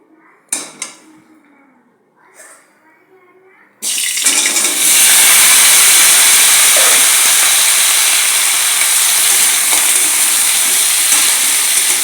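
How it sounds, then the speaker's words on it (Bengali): A few light clanks from a wok come first. Then pointed gourd (potol) drops into hot oil and bursts into a loud, sustained sizzling hiss that fills the rest of the clip. "আমি আবার পটলগুলোকে ভাজি করে নেব।"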